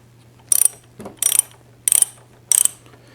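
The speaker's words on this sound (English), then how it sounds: "With a 9mm hex wrench, let's loosen the triple tree." A 9mm hex wrench is loosening the triple tree clamp bolt on a motorcycle front fork. Four crisp, close ratcheting bursts come at even intervals, with a faint clunk between the first two.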